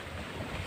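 Sea waves on the shore at a seaside exercise spot in the morning, a steady broadband wash and rumble that stays faint and unbroken throughout.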